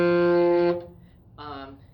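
A clarinet in a beginner band book exercise sounds a clear, sustained low tone, close and alone, which breaks off. After a short gap a softer, brief second note follows.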